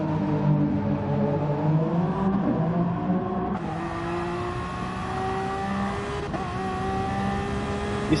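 Race cars circling Suzuka in Gran Turismo Sport, including a Porsche 919 prototype, engines droning and shifting pitch as they rev and pass, a continuous loud motor whine with no talk.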